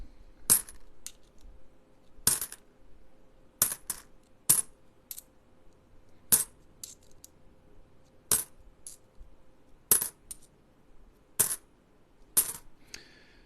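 A mixed batch of coins is sorted by hand, with sharp metallic clinks of coins dropping onto a hard surface at an irregular pace over an otherwise quiet background.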